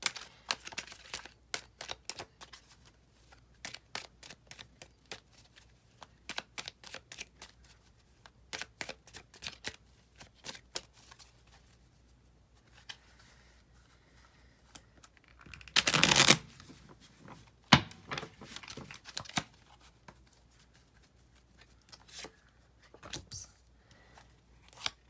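Tarot cards being shuffled in a series of quick riffling bursts, with a louder flurry partway through and softer handling between, no voices.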